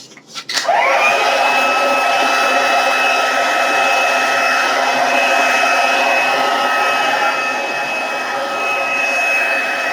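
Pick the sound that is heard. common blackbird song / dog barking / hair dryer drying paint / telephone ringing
hair dryer drying paint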